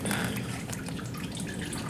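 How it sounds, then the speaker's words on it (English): Faint, steady trickling of used engine oil draining from a Miata into a pan, a soft continuous splashing with no talking. "if you can hear it right now, it's going into the pan"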